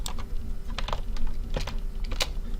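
Quick bursts of keystrokes on a computer keyboard, clicking in short irregular clusters while a number is entered into design software, close and fairly loud over a steady low hum.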